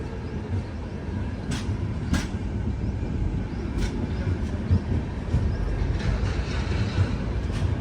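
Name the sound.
train stopping at Adipur Junction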